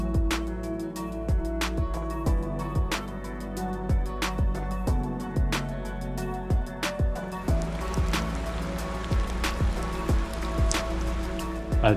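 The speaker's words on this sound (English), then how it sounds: "in the last 15 kilometers I got caught by rain, and now it's gotten heavier" Heavy rain falls steadily near Graz while a Brompton folding bike is ridden, with dense patter and repeated sharp drip impacts hitting close by, loud and continuous without talk.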